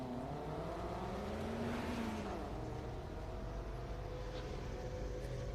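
An autocross car on a run at Daytona whines through its gears in the distance, engine pitch climbing and falling as it accelerates and slows, faint and steady with no talk over it.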